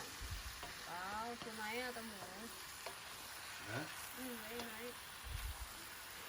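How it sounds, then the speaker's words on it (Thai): Sweet bee mushrooms are stir-fried in a pan, giving a steady sizzle with scraping stirring noises beneath someone speaking throughout. "นี่ผัดเข้าไปเลยนะคะ"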